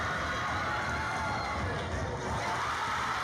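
A basketball gym crowd roars steadily around a free throw, a dense, continuous wash of cheering and chatter that fills the room at a constant loud level.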